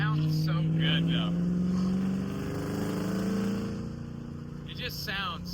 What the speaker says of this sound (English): The 3-valve, it sounds so good.